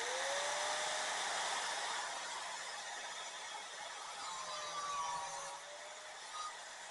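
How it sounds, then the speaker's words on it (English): Angle grinder shaving down an electrical box during rough-in wiring, a loud continuous high whine with a slowly shifting pitch, steady and close throughout. "just take my grinder that you see me use a lot and just shave it"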